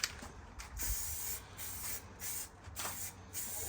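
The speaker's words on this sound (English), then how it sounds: "Gives a nice spray pattern." A spray can lays a base coat onto a car bumper in steady hissing bursts, pausing briefly between passes, close up and on its own.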